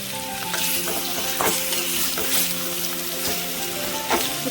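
Chicken pieces sizzle and fry in a pan for restaurant-style chicken biryani while a utensil stirs them, steady close frying with repeated scraping strokes and no talking.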